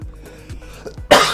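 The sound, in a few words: cough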